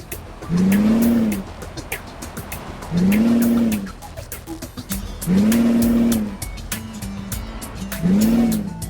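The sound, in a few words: Kenworth truck engine redlining in American Truck Simulator video game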